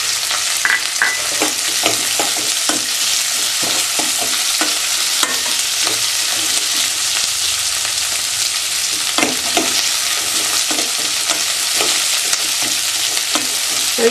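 Onions, garlic and ginger fry for a jackfruit gravy in a steady, loud sizzle, with frequent scraping clicks of a spoon stirring the pan throughout.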